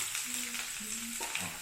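Ginger dropped into hot oil with mustard seeds already spluttered, for a berry (elanthappazham) pickle, frying in a steady close sizzle with a brief stir near the end and no talk.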